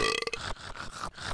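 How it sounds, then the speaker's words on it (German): A loud, thick, drawn-out burp from a Minecraft resource pack, one long guttural belch standing alone. "damit wir jetzt den Rülpsound und den S-Sound hören können"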